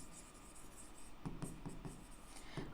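Pen writing on paper during an accounting lesson: faint, close scratching strokes in a short rhythmic run over a quiet room hum, with no talk.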